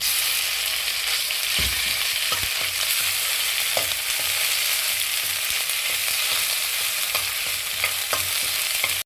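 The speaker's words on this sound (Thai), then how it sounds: "เราก็จะเอาพริกแกงลงผัดค่ะ" Curry paste is stir-fried in a pan for a Thai curry, giving a continuous bright sizzle broken by irregular scraping and clacking stir strokes, no speech.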